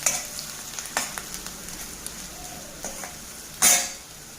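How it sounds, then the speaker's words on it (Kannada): Finely chopped ingredients fry in a pan for tomato rice, with a soft continuous sizzle punctuated by spatula taps and scrapes against the pan and one louder clatter near the end. "ಸಣ್ಣದು ಕಟ್ ಮಾಡಿದ್ದು, ಚೆನ್ನಾಗಿ ಫ್ರೈ ಆಗಬೇಕಿದು."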